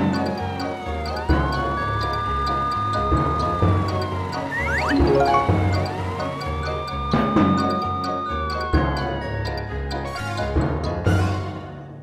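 A cartoonish police siren wails in rising and falling sweeps over a busy musical backing, looping steadily throughout with bright jingling accents.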